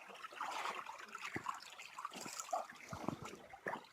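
Spring-fed water in a village river trickles and splashes close by, with uneven gurgles and soft bursts over a low, continuous flow.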